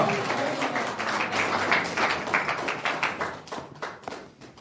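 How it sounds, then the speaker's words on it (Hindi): Church congregation claps to give thanks to God during a Hindi sermon, producing dense, continuous clapping throughout that thins slightly toward the end. "ताली बजा के परमेश्वर का धन्यवाद कीजिए"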